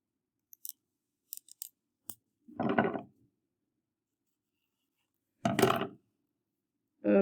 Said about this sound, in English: I'm gonna cut this and show you.